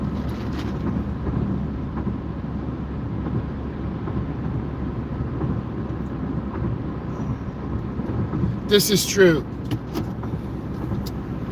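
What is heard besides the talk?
2025 Equinox car driving at night on highway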